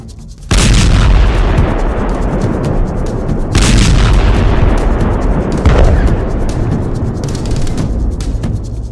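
Heavy artillery shell fire booms in Gaza, loud sustained blasts that rumble and roll continuously, with several renewed surges of thunderous impacts.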